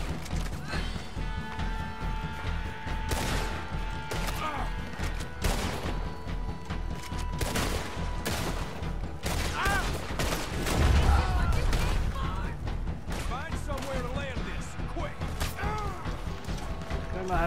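Gunfire in the video game Red Dead Redemption 2: a dense, sustained fusillade of shots and mechanical clatter runs loud and continuous throughout, with busy game sounds layered underneath.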